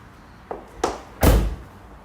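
Three separate knocks and thuds on a Vauxhall Omega GLS 2.5 TD estate, rising in loudness, with the last a heavy, close, dull thump that rings out briefly.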